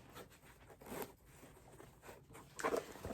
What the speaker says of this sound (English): And very nice zipper.